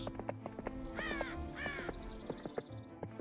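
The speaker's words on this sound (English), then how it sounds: "It's like there's a bird in my ear squawking" A crow-like bird caws repeatedly in a Heroes of Might and Magic game, a few loud rasping squawks in quick succession over steady background game sound.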